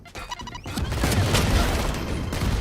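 A grenade blast in the Valorant video game, a loud booming explosion that swells and rumbles on for a couple of seconds after a brief burst of clicking game sounds, with no talk over it.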